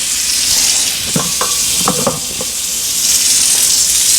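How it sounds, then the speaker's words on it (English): Rushing stream from a GIMILI waterfall kitchen faucet pouring into a dog's water dish in a home kitchen, a loud steady hiss with brief clinks and splashes as the dish fills. "Watch how fast it's going to fill this water dish up."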